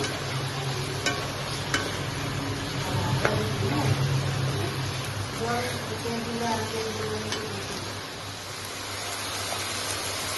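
Ground onion paste stirred into hot oil for a desi chicken gravy, a steady sizzle and frying hiss with intermittent scraping of a utensil against the pan, close and continuous.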